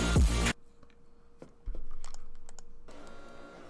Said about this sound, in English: Windows noise.